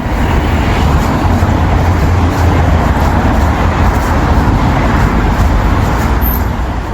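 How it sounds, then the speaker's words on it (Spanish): Street traffic in central London: a dense, steady roar of cars and buses passing close by, constant broadband road noise without horns or talk throughout. "Este es el sonido de las calles de Londres en pleno centro."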